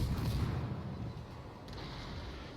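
Warship guns fire in a naval video game, a series of deep, rumbling booms that roll into a heavy, sustained low roar, loudest at the start and fading slightly.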